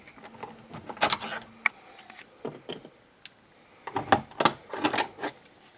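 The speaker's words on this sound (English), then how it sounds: "And they just pop right off." Plastic trim covers on a 2007-2013 GM truck door panel pop off one after another, giving sharp close plastic clicks and snaps in two clusters with quieter handling between them.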